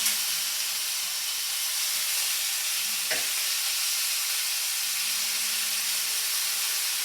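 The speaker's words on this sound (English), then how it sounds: "Still leaving them on the grill to cook some more because the grill is still hot." Chicken pieces sizzling on a hot grill that has just been switched off, giving a steady, close hiss with a single sharp click in the middle and no voices.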